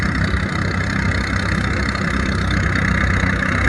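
An old Case tractor engine idles steadily close by, a continuous low, rumbling drone with an even, unbroken loudness and no voices.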